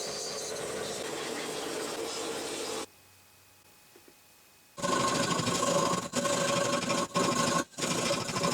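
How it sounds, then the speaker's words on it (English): Power sanding shapes a wooden spoon, a steady abrasive whir that stops for a couple of seconds of near silence, then resumes louder with brief dips and interruptions. "A little more sanding and it's definitely getting closer."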